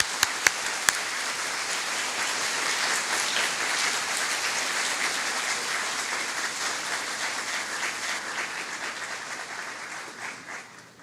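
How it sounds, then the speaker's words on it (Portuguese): Sustained applause from a large audience, a steady dense wash of clapping that holds for several seconds before slowly thinning out. "A quem recebemos, então, com nossos aplausos."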